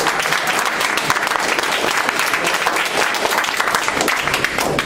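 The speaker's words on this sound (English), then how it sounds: "Give yourselves a round of applause." An audience at a debate competition breaks into sustained applause, a dense, even wash of clapping hands from many people that continues at steady loudness throughout.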